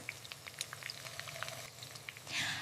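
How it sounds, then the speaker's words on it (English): Eggs frying in a pan on a kitchen stove, a close, steady crackle and sizzle with scattered sharp pops and spits, a louder hissing burst near the end, and no voices. "I fry the eggs."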